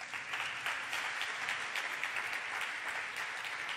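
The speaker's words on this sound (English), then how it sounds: "So let's welcome Neri with a big applause all together." A conference audience at a robotic hand presentation and demo gives sustained, even applause to welcome the presenter, fairly quiet and distant with no voices over it.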